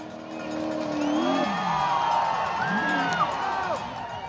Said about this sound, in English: Listen to that crowd when he goes all the way